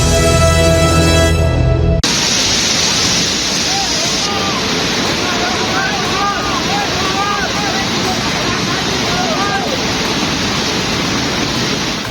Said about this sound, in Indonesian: Banjir lahar dingin Gunung Merapi menerjang aliran Sungai Senowo, Magelang, Jawa Tengah.